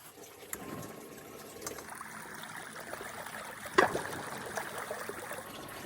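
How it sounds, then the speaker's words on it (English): Water trickling and pouring steadily into the hull of a small mini jet boat stranded on a remote river, a soft continuous splash with one brief louder knock midway. "Can you hear the water pouring in? It's coming in from somewhere."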